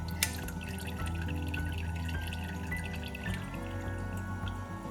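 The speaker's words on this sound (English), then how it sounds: "take a sieve and just sieve out all the beautiful spices" Mulled wine with spices poured through a sieve, a steady liquid trickle and drip running continuously at close range, fairly quiet, with a faint hum beneath.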